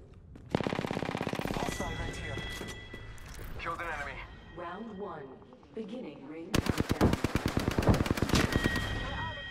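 Automatic weapon fire in the shooter Apex Legends on PS4, loud rapid bursts near the start and a long sustained stream of shots late, with voiced game callouts and effects in between.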